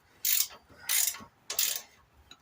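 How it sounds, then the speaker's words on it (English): A ratchet wrench turns a bolt during a top end rebuild on a 150cc GY6 scooter engine, giving three bright, clicking ratchet strokes at a steady rhythm, close and quiet, with no talking. "Ratchet wrenches are a godsend."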